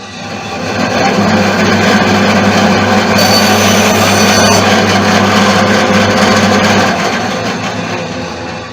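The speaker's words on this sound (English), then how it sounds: "Bring it to whatever saw you happen to be using." A saw cutting through a piece of scrap wood, a loud, steady buzzing drone that runs for several seconds close to the mic and then winds down.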